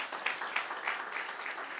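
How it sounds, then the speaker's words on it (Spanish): Church congregation applauding together, a steady broad wash of clapping with a few louder bursts, no talk over it. "Denle un aplauso al Señor"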